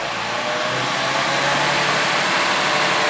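Car engine held at raised revs during a heater core flush, a loud steady close-up drone with a broad rushing roar and no voices.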